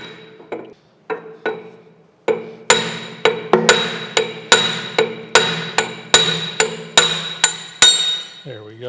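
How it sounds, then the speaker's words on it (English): Hammer blows on a brass drift knocking out a taper on a steam stoker engine part, a dozen or so sharp metallic strikes, sparse at first then a steady, quickening rhythm, each ringing briefly, close and loud. "Now I got a brass drift here, and I'm just going to knock that out, hopefully, that taper out."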